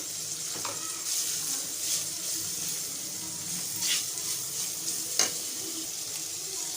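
Grated ginger paste with salt fries in a pan, a continuous close sizzle with a few soft stirring knocks and one sharp tap near the end.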